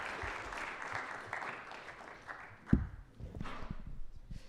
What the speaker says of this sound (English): Let's give the debaters a round of applause.